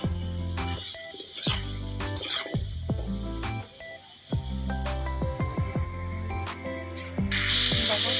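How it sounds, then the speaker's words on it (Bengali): Unripe jackfruit pieces frying in hot oil give a steady soft hiss and sizzle beneath background music, swelling louder and brighter near the end. "কাঁঠালগুলো একইভাবে ভেজে নেব"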